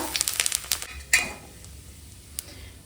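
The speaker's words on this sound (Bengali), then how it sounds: "এখন ফোড়নে দিচ্ছি জিরে আর তেজপাতা" Cumin seeds and bay leaves hit hot oil for tempering, giving a close crackling sizzle with sharp pops and a louder spatter burst, then a quieter steady fry with one last crackle.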